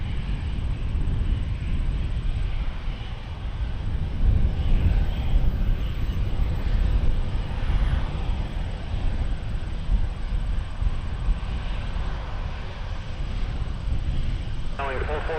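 A passenger jet rotates and climbs away from Toronto Pearson Airport, a loud, steady broadband engine roar filling the whole stretch without letup, with faint radio chatter in the background.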